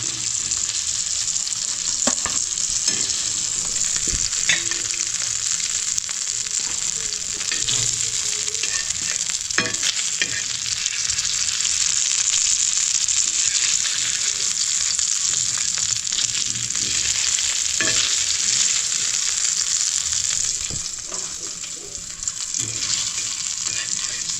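Fish pieces coated in rava, dhoma (croaker) among them, fry in hot oil with a loud, steady sizzle throughout, with scattered crackles and the occasional scrape of a spatula stirring.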